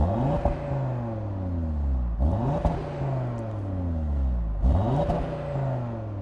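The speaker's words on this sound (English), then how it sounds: "as standard, the car comes with a normal exhaust, which sounds like this" An Audi TT RS coupe with its standard exhaust revs hard three times in a row, each burst climbing in pitch and then falling back to a steady idle, loud and close.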